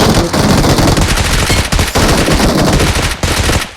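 Loud, sustained machine gun fire from the battle royale video game PUBG, rapid bursts running almost continuously with a few brief gaps, close and dominant with no talk over it.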